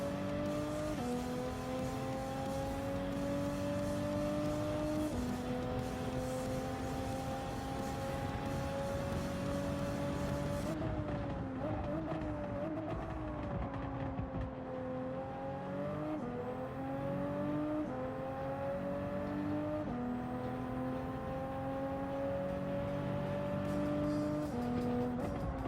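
Race cars roaring around the Red Bull Ring in a racing video game, a steady loud engine drone with rising and falling pitch as gears change, tire squeal mixed in, continuous throughout with no voices.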